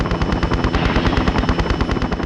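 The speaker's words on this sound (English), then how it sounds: "you're also going to be getting fired at from a helicopter" Helicopter gunfire in the Tomb Raider Chronicles game: a steady rotor drone under rapid, evenly spaced bursts of shots, loud and continuous throughout.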